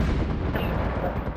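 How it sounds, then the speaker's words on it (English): Video game gunfire from the MAG Acquisition mode, shots fired into the air in a celebratory burst; a dense, continuous rumble of overlapping reports runs through the whole moment with no voices on top. "Shoot into the air because we're cool."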